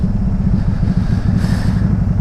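A Can-Am Spyder ST-S idles with a loud, deep exhaust rumble, a steady low pulsing throb that stays constant and close for a couple of seconds, with no talking.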